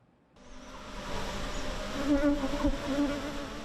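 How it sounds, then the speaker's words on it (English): Asian honey bees swarm and buzz around hives in a wild forest setting, a steady dense drone that swells in after a quiet start and holds loud and close throughout. "a small handful of beekeepers are working to revive the country's wild forests with the resilient Asian bee"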